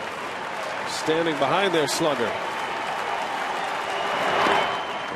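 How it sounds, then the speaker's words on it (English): Baseball crowd in a ballpark roaring steadily throughout, with a swell of cheering near the end; a play-by-play announcer talks over the first half. "Crowd starting to chant Casey"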